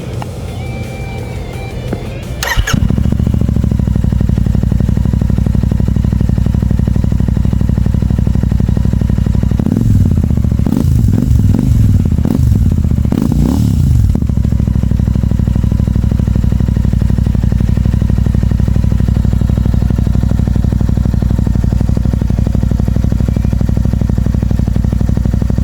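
A Royal Enfield Classic 650 twin fitted with a Red Rooster Atlas exhaust, DB killer removed, fires up and idles loudly with a deep steady thump, broken midway by several sharp throttle blips before settling back to idle.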